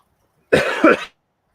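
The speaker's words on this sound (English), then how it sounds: "Excuse me, I had to cough." A single close, brief cough in two quick bursts, loud against otherwise near silence.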